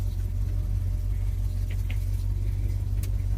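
A 1976 Ford F-150 Ranger truck engine idles close by, a loud, steady low rumble with an even throb and a faint metallic jingle above it.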